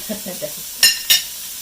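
Vegetables with hot pepper stir-frying for drunken noodles, a short close burst of sizzling and two quick metallic scrapes of a utensil against the pan following a few low murmurs.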